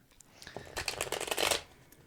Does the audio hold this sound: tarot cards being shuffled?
yes